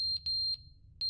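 An alarm in The Stanley Parable gives a few short, high electronic beeps at an irregular pace, fairly faint over a low background hum.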